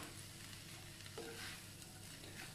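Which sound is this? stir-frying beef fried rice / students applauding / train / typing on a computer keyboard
stir-frying beef fried rice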